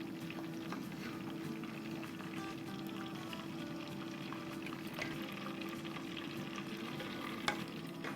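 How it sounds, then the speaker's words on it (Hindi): Bajra kababs sauté in a pan on a stovetop, a steady low oil sizzle running throughout with occasional faint stirring scrapes and a small clink near the end, no talking. "हमें बस इसको 1 ही मिनट सौटे करना है"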